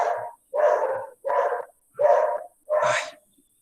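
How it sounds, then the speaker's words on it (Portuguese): Dogs in a residential condominium bark five times in a steady series, each bark loud and close with short pauses between, no talk over them. "Os cachorros aqui do condomínio são interessantes, né? Eles latem para qualquer coisa."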